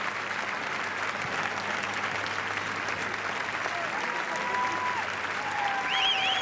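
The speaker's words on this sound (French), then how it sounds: "c'est une salle qui ovationne depuis à peu près une demi-heure" A packed hall at the 2017 Cannes Film Festival gives a long standing ovation at the Palme d'Or ceremony: steady, dense clapping continues throughout, with a commentator talking over it.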